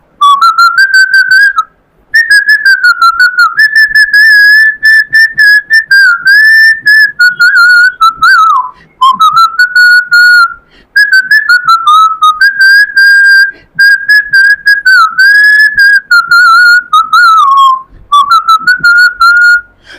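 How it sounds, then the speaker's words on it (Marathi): A person whistles a song solo, loud and close, in clear melodic phrases broken by short breath pauses, with no talking. "मी शिट्टीतून गाणं म्हणून दाखवणार"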